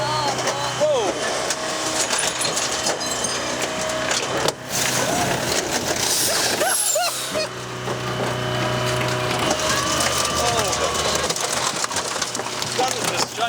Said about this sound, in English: Don't you want Daddy to crush the car?